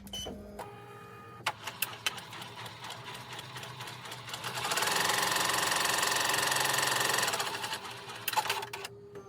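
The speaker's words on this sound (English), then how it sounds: "now it's time to do the placement stitch for the top fabric" An embroidery machine sews a placement stitch on top fabric for an in-the-hoop pencil mug rug, starting with scattered clicks and short bursts, then a steady loud mechanical whir through the middle before tapering to clicks.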